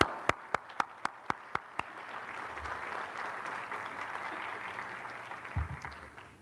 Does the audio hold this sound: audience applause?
yes